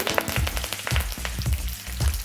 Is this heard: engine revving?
no